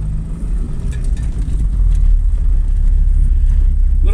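A small old Ford car rallies along a forest track, its engine giving a loud, steady low rumble from inside the cabin with no talking.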